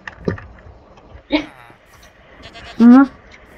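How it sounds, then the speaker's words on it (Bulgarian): A goat in a video game bleats in short, loud calls, with one sustained bleat near the end, while people talk in a game. "Его тъпия козел."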